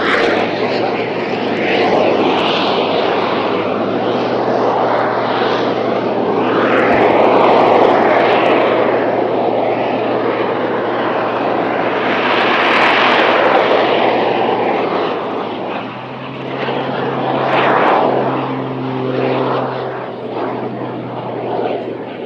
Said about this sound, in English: top speed is 200 miles an hour, but then to bring the aircraft to a hover